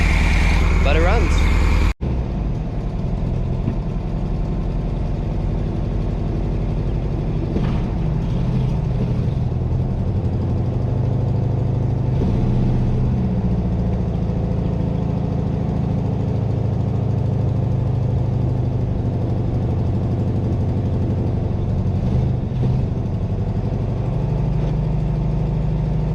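A 1970 Volkswagen Beetle, abandoned for twenty years and now revived, idles steadily and fairly close for the whole stretch after a brief opening noise, a constant low rumbling drone.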